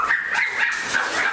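Small dogs bark and yip repeatedly in an apartment, a rapid high-pitched run of loud, close barks and whimpers without pause.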